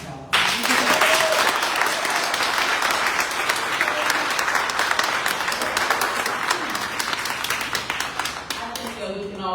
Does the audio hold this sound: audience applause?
yes